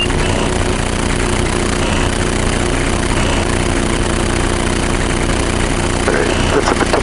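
A light aircraft's engine idles in flight, a steady droning hum with a dense low rumble that holds continuous and fairly loud throughout, with no clear change in power.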